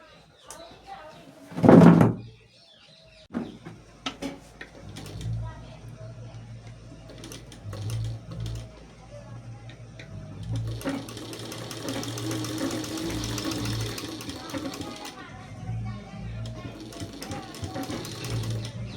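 A new sewing machine stitches a garment, a traditional outfit. Its steady mechanical whirring and clattering builds in the second half, with sharp knocks before it and voices in the background.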